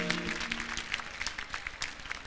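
Audience applause for a guitarist at a concert, a brief stretch of scattered clapping in a live room.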